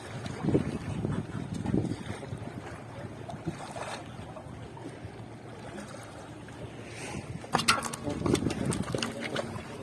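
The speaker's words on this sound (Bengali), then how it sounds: "তো বন্ধুরা আমরা কিন্তু দেখতে পাচ্ছি দূর থেকে কিন্তু টুরিস্টের বোট যাচ্ছে" A tourist boat passes at a distance on Sundarbans waters, a low rumbling engine drone under wind and gentle lapping water, heard from a fishing boat, with a sharper knock or two near the end.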